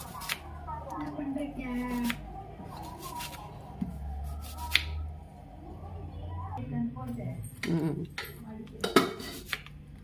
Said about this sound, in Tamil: அதுக்கு ஆனியன் கட் பண்ணிக்கோங்க, நல்லா ஃபைனாக சாப் பண்ணிக்கோங்க.